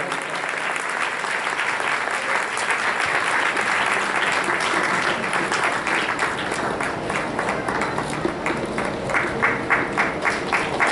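Loud, sustained audience applause from a large crowd at a satsang award ceremony, many hands clapping together without pause, gradually thinning toward the end.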